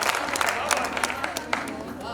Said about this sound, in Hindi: मैं जानता हूं कि आप तालियां बजा बजा के थक चुके हैं।